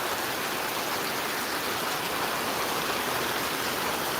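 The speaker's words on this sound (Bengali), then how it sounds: "প্রচুর বৃষ্টি হচ্ছে" Heavy rain pours down at the Gabtoli cattle market, a dense, unbroken hiss that fills the whole stretch at a constant level.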